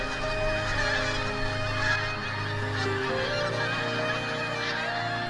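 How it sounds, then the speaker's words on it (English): A large flock of pink-footed geese, arriving for winter on the Aberdeenshire coast near the Loch of Strathbeg, honks continuously, with many overlapping calls forming a dense, steady chorus at middle distance. "Pink-footed geese."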